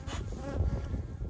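Honeybees buzz around an open hive being split, a dense close-up drone with a steady hum and no voices.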